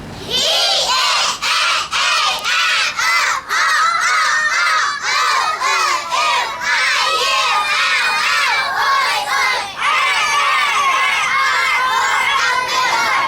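A group of children shout together loudly in unison, repeated bursts of high voices with brief pauses, close and energetic throughout.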